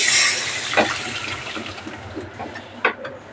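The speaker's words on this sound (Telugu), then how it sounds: "ఇప్పుడు దీంట్లో చింతపండు రసం పోసేసుకోండి." Tamarind juice is poured into a pot of fish curry, making a brief, close splashing pour that tapers into light trickles and a small splash near the end.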